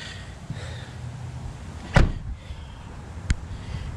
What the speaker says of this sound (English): The door is under pressure when you pop it open.